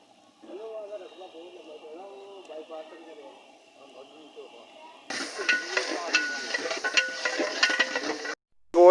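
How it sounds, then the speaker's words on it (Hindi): Chicken sizzles and fries in a pot over browned onions, a soft hiss under a voice at first, then a louder burst of crackling frying as the meat is stirred. "हम इसको फ्राई कर रहे हैं चिकन को।"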